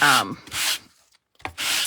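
Three rough, scratchy rubbing strokes of a sanding block on card, each about a third of a second, separated by short quiet gaps.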